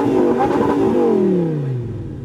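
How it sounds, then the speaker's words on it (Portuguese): An Audi R8 engine revs high then winds down, its pitch sliding lower, with rough crackling pops from a broken exhaust, loud and close. "Eu só tô escutando os estralos, rapaziada. Eu acho que o escape dele tá quebrado."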